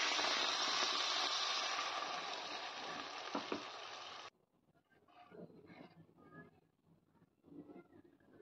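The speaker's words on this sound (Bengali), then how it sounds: "এবার এখানে আমি গরম জল দিয়ে দেবো" Prawns with broccoli frying in a kadai sizzle loudly and steadily, then hot water is poured in and the hiss cuts off abruptly, leaving quieter bubbling and low stirring noises.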